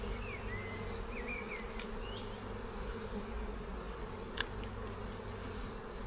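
Honeybees from a strong colony buzz steadily around an opened brood box during a hive inspection, a dense continuous drone with a few individual bees zipping close by, no voices.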